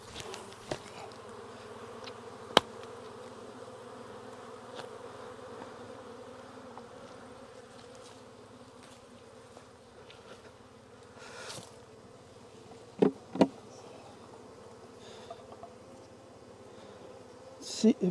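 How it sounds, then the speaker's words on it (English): Honey bees buzz around an open beehive as frames are swapped, a steady low drone filling the whole stretch, with a few sharp knocks of handling and faint voices underneath. "Dump the bees."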